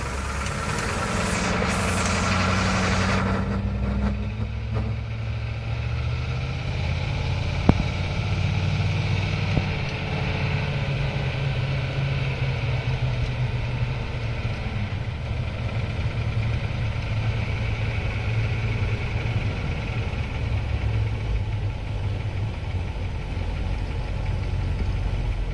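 A 1988 Hummer H1 Humvee diesel engine idles steadily and close after starting, a low rumbling drone with knocking vibration that holds throughout, with no talk over it.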